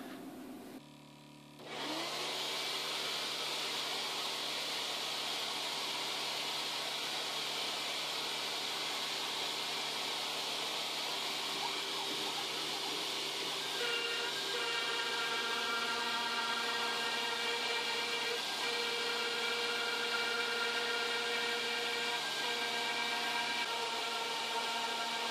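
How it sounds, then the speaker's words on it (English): A CNC machine runs a 6mm end mill through an MDF spoilboard, roughing out T-slots: a steady, loud, continuous high-pitched whine of spindle and cutting that starts after a brief quiet moment and holds unbroken, with no talk. "now I'm going to start the job with the 6mm end mill to start the T-slots"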